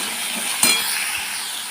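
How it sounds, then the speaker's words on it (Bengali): Chunks of elephant foot yam fry with turmeric and salt in a pan, a steady loud sizzle with one brief clink of a utensil partway through. "এবার আমি ওল কপিটা ভেজে নেবো ভালো করে হলুদ লবণ দিয়ে সুন্দর করে ভেজে নেব"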